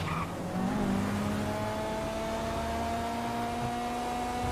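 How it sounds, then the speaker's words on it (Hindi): A car speeding down a highway in GTA 5, its engine droning steadily with a sustained high whine and tire noise throughout, loud and continuous with no talking. "हमारी गाड़ी तो 150 की स्पीड को पार करके जा रही है।"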